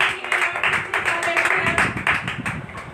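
A church congregation at a sunrise service claps rhythmically in a quick steady beat, with singing or voices blended underneath.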